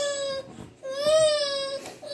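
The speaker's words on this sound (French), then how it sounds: "On va entendre pleurer mes bébés." Babies cry close by in drawn-out, wavering wails broken by short breaths, loud and insistent throughout.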